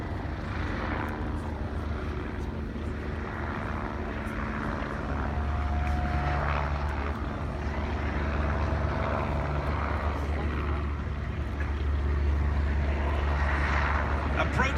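A formation of four North American Texan propeller aircraft flies overhead at an air display marking a D-Day anniversary, a steady droning engine hum that swells slightly midway and holds through, with a voice talking over it.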